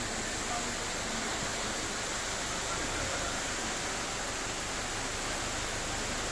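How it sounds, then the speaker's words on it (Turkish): A roadside waterfall near Yalamık village in Tarsus, Mersin, pours down as a steady, dense rush of falling water, loud and unbroken throughout with no rhythm or pauses. "hemen yolun kenarından yolu arkasına alarak aşağıya dökülen hoş bir şelale"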